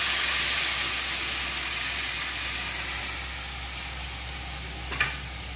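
Coconut milk hits cardamom, cloves and cinnamon frying in a pan for an egg and hog plum korma, producing a loud continuous sizzle that gradually softens, with one brief clack near the end.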